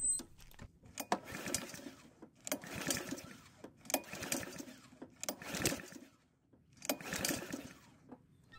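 A Honda lawn mower engine is cranked with gas primed into the carburetor throat but fails to start, five or six bursts of rapid chugging turnover, each about a second long with pauses between.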